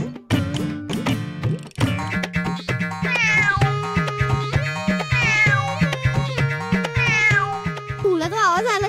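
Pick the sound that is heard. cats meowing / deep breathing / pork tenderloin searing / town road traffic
cats meowing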